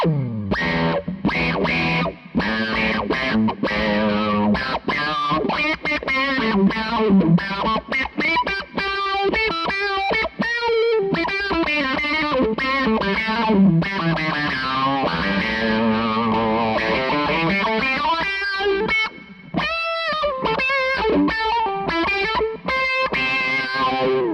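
Electric guitar riffs through a KO Amps Interstellar Burst pedal with drive engaged, a loud, continuous run of distorted, effect-laden notes and bends with brief gaps, played alone without voices.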